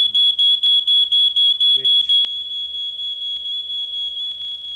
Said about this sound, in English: The Schoor Fire-Stop reacts to smoke, setting off a warning buzzer.